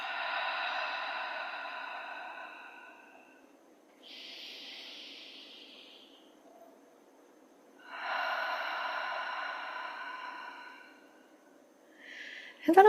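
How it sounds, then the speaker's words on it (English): Slow, calm breaths in and out through the nose or mouth during a gentle yoga session, three soft breathy exhales spaced several seconds apart with quiet pauses between, faint and close. "take 3 breaths in through the nose, out through the nose or mouth"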